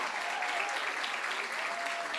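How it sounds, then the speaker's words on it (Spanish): An audience claps steadily throughout at a televised interview, a dense, even wash of applause with no pause, moderately quiet and heard from a distance. "Fuerte el aplauso, por favor."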